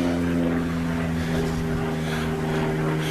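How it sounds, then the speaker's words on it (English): Propeller plane passing overhead, a steady droning engine hum with a clear tonal buzz, moderately loud and continuous for a few seconds. "There's the plane."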